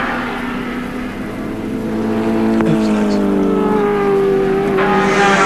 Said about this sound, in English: Bagent is really wringing plenty out of the Turbo Nissan at this stage